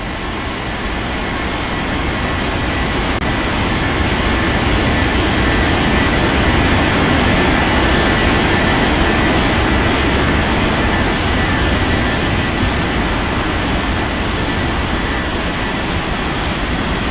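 A Lufthansa jet airliner takes off from runway 18 at Hamburg, its engines producing a loud, continuous roar that swells slightly in the middle and holds steady to the end.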